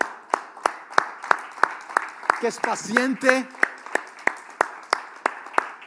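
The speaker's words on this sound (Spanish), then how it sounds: "¿Cuántos pueden darle un aplauso a aquel?" A church congregation claps in a steady, even rhythm, sharp beats recurring about three times a second, while a voice speaks or sings over the middle stretch.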